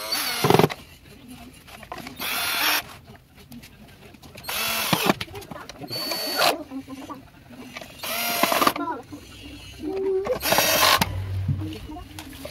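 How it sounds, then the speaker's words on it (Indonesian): Bolts being driven into the top cover of a Turbo EHM9595 stand mixer with a power driver, in several loud whirring bursts separated by pauses with handling noises. "di sini ada 3 baut pengikatnya, bagian tutup atas. Oke, sekarang kita pasang bautnya."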